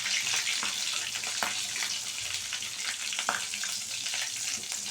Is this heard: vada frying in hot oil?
yes